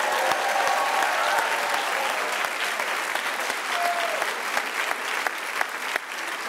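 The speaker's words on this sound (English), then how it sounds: "Let's give all your professors a round of applause for getting you to today" A crowd at a medical school Match Day gives the professors a round of applause, with sustained dense clapping and occasional sharper nearby claps and faint cheers.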